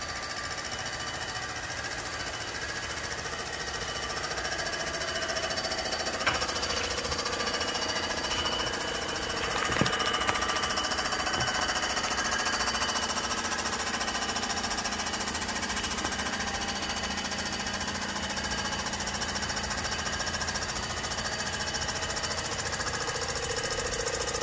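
A Comec ACF200 mill resurfaces an R56 Mini Cooper cylinder head for an MLS gasket at a reduced feed rate, giving a steady, loud, continuous grinding whir that holds throughout with no talking.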